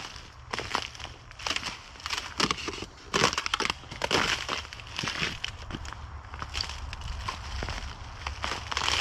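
Thin ice on a woodland trail crunches and cracks underfoot, with a steady string of sharp, close, crackly breaks as footsteps press through it, no voices.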